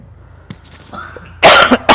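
A close, loud cough, two harsh bursts in quick succession after a quiet moment with faint breathing and small noises, interrupting Quran recitation.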